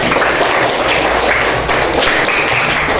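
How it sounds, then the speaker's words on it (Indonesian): A classroom of students clapping their hands together, a dense, steady patter of many close claps filling the room with no voices over it. "Tepuk tangan dulu untuk kita semua."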